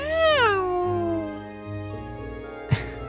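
A cat in the Trails of Cold Steel video game gives one drawn-out falling meow, close and clear, followed by a brief sharp game sound.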